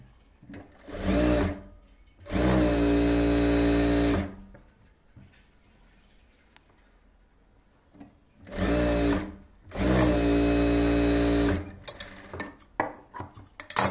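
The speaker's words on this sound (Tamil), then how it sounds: "லைனிங் மேலே எஜ்ஜி தையல்" A sewing machine runs edge stitching along a blouse lining for a silk saree, in two pairs of loud, close bursts, each lasting a second or two and separated by quiet pauses, followed by faint handling noises.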